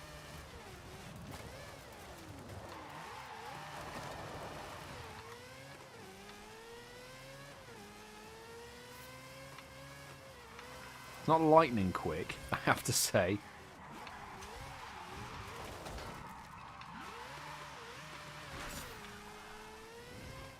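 A loud Mazda in Forza Horizon 5 drives a dirt road, its engine droning and shifting pitch throughout, with a sharp burst of revving or skidding midway, under near-constant talk.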